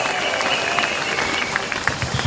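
A speedway crowd at the Coliseum roars and claps for a rider introduction at a Plymouth Gladiators versus Redcar Bears Championship meeting, a steady dense wash of cheering with scattered hand claps throughout.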